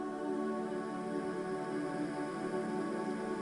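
Sustained synthetic choir pad from a SampleTank 4 plugin, in a slow pop cover arrangement, holding a steady soft chord at low level with no voices.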